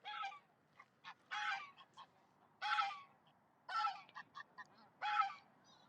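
Geese honk in repeated noisy bursts at dusk by a lake, several calls overlapping in clusters about a second apart, moderately close against a quiet background.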